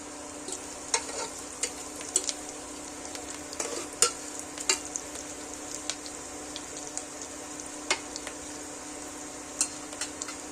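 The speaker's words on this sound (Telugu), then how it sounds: "గోల్డ్ కలర్ వచ్చిన దానికి వేయించుకోవాలి" Mutton curry ingredients fry in a pan with a steady sizzle, broken by frequent sharp scrapes and clinks of a spoon stirring against the metal, fairly close and without talk.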